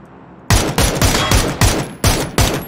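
Gunfire in PUBG on the Sanhok map: six sharp, loud shots in an uneven rapid series after a brief quiet start, each ringing off briefly, with no talk.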